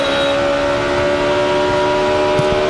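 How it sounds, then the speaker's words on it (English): A NASCAR race car engine at the 2006 Zippo 200 drones loud and steady with its throttle floated through a section of track. The hum is continuous and buzzy, without sharp revving, and no one speaks over it. "Hear him floating the throttle right through there."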